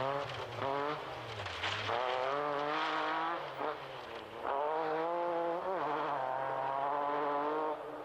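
Non-turbo Group B rally car with a Rover V8-derived V6 engine, revving hard through rising and falling pitch sweeps with gear changes, loud and close, with brief tire noise and no talking.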